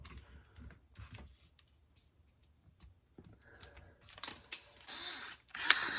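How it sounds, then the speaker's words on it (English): A few bolts are being loosened from the gear cover of a Traxxas RC car: quiet, scattered small clicks and taps, then a brief run of louder mechanical bursts from a bit or driver near the end. "we're going to just take the 4 bolts off of here"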